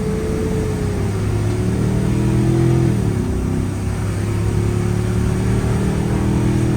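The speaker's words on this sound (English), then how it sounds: "This thing will get down for a V10." A Ford F-550 crane truck's V10 engine with automatic transmission roars steadily at high revs, its pitch rising and dipping briefly midway before holding strong, loud and close.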